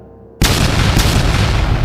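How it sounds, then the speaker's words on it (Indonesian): After a near-silent moment, a loud, close explosion bursts in and rolls into a sustained, dense booming roar that holds steady to the end, accompanying sword slashes in a fantasy battle. "Setiap tebasan disertai ledakan-ledakan di sekitarnya"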